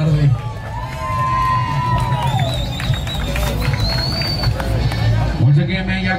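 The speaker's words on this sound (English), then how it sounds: "Once again, man, y'all give him a round of applause" Outdoor truck meet crowd cheering and clapping, with whoops and shouting voices over a loud, dense hubbub and a low engine-like rumble underneath.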